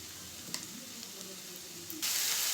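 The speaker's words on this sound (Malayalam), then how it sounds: "ഇനി ഞാനൊരു ക്യാപ്സിക്കത്തിൻ്റെ പകുതി, ഒരു 2 ബീൻസ് ഇത്രയും കൂടെ അരിഞ്ഞതോട് ചേർത്തത് നല്ലതുപോലെ ഒന്ന് വഴറ്റിയെടുക്കാം" Chopped capsicum and beans with a pinch of salt sautéing in a pan for spicy masala Maggi, giving a steady soft sizzle with a few light stirring taps, then a sudden louder hiss near the end.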